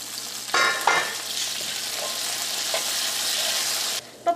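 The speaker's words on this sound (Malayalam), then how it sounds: "ഇടയ്ക്ക് നമുക്ക് പൊട്ടറ്റോ ഒന്ന് ഇളക്കിയിട്ട് കൊടുക്കാം." Potatoes stirred in a pan while they cook, a steady close sizzle with a couple of scraping strokes near the start and a clatter at the end.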